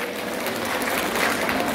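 A crowd at a Nepali women's organisation meeting gives dense, continuous applause to welcome a newly appointed coordinator, loud and sustained through the whole moment, with no separate voices.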